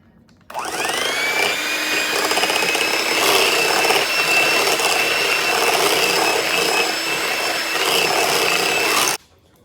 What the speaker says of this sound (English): We're going to blend this in.